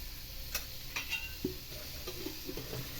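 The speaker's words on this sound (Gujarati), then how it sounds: "હવે તેને ધીમા ગેસ પર ધીમે ધીમે હલાવતા જઈશું, સાંતળતા જઈશું" Grape juice mixture with rock salt is stirred and sautéed in a kadai over a low flame, giving a quiet sizzle broken by light scraping ticks of the spoon against the pan.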